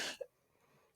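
A single short cough right at the start, close and fairly loud, then quiet room tone.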